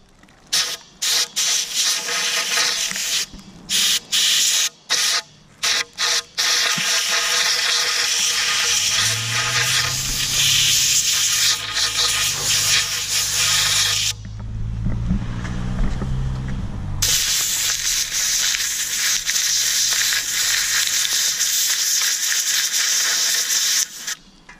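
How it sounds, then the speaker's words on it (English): Compressed air from an air tank nozzle blasts debris out of holes drilled for anchoring a loose handrail, first in short choppy bursts, then in long, loud, continuous hissing blows with a brief pause. "Now I'm going to use my air tank and with a nozzle on it just to get these all cleaned out real good."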